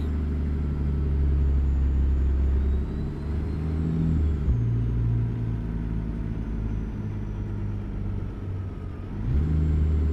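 Kenworth W900 long-nose semi truck driving in American Truck Simulator, a steady deep diesel engine drone with shifting gear tones and a brief dip midway, continuous and close throughout, no talk.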